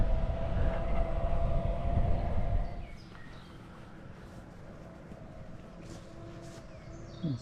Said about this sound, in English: Now I've got the noise of tractors.